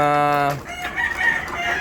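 A Rubio Gold gamefowl rooster crows loudly and close by in one short burst, and someone speaks briefly right after.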